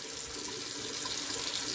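A bathroom tap runs steadily into a sink for a rinse after shaving, giving a close, even rush of water with no break and no voices.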